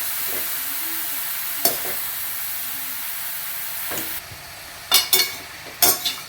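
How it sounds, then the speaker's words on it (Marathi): Grated carrots frying in ghee for carrot halwa give a steady sizzling hiss, broken by a few sharp scrapes and clacks from a spoon stirring the pan close up. "आता हे तुपात सगळं मिक्स करून घ्यायचे आणि 10 मिनिटं तुपात फ्राय करून घ्यायचे आपल्याला गाजर."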